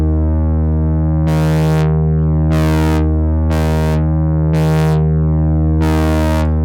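2022 Minimoog Model D synthesizer holding a sustained buzzy low note, with five evenly spaced bursts of harsh, bright filter sweep as the keys are pressed for aftertouch, alone without talk.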